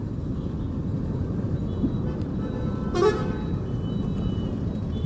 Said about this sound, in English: stuck in traffic.